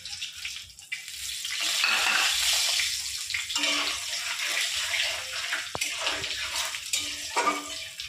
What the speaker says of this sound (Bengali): এবার এই গরম তেলে আমি ফোড়নে দেব তেজপাতা, 4টে শুকনো লঙ্কা আর 5 ফোড়ন